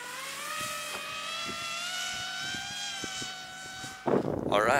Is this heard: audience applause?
no